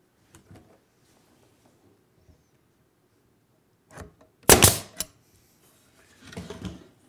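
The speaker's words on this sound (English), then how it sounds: "Now the shot that I just did right there, the head of the nail is even with my material" Nail gun driving nails into wood to fasten two components, a sharp cluster of loud bangs midway with fainter knocks before and after, no talking.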